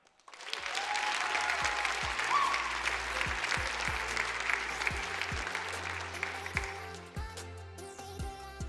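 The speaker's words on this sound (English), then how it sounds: "if I can get another round of applause for the over 70 volunteers" Event audience gives sustained loud applause for volunteers at a state championship, dense clapping heard from the stage that fades toward the end while a few rhythmic thumps come through beneath it.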